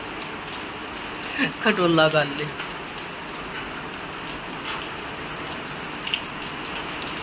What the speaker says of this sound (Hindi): बारिश का आनंद ले ली।